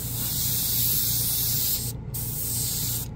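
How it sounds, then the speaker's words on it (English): A trigger airbrush sprays paint in a steady, close hiss that cuts out briefly about two-thirds through, resumes, then stops again at the end. "Now I'm going to pull, and you're going to see paint come out."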